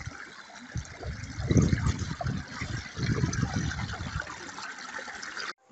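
A rain-swollen taiga river in Siberia rushing after overnight rain, a steady close wash of flowing water with surging, gurgling bursts, no talk over it.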